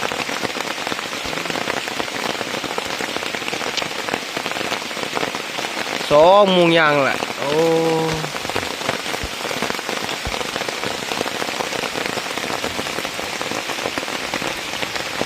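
Steady evening rain pattering on a surface throughout, with a brief voice speaking over it partway through.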